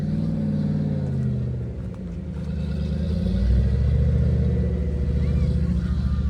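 An off-road vehicle's engine rumbles low and loud as it works up a rocky ledge obstacle, briefly easing off before revving harder, steady and close throughout.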